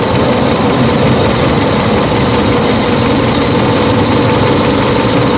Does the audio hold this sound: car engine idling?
yes